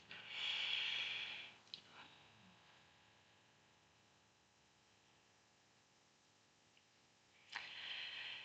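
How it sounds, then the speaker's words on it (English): A few deep breaths, a long loud inhale and exhale at the start and another at the end, close and breathy over a quiet hum, with near silence between. "I'm just going to place my hand on it and pick up the energy and take a few deep breaths."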